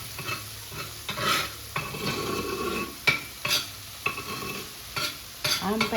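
Spice paste with lime leaves and lemongrass stir-fries in hot oil, sizzling under repeated scraping strokes of a spatula and occasional clinks against the pan, close and busy with no voices.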